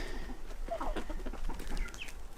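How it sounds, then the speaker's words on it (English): Small chicks cheep softly among other poultry and geese inside a homestead greenhouse, a few faint, thin peeps over a low rustling background, no voices. "This here's a little chick that was secretly hatched by a chicken"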